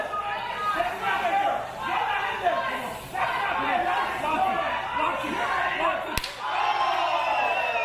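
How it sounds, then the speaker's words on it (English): Knife-edge chop from Chris Bey during a wrestling match: one sharp, loud slap near the end cuts through steady crowd chatter and shouting that runs throughout. "Huge chop."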